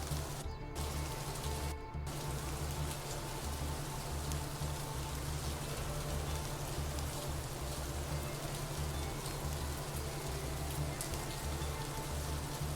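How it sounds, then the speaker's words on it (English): Steady recorded rain falls on a surface, a dense, even hiss that fills the whole clip with no pauses and a constant low hum beneath it. "That's just rain sounds."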